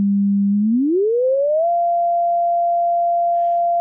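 A pure oscillator sine tone holds low and steady, then glides smoothly upward to a higher pitch and stays there, loud and clean with nothing else over it.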